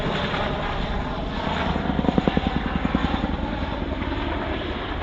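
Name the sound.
RAF Chinook helicopter flying at airshow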